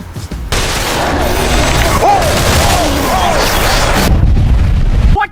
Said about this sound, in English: That was a Void Shackle explosion.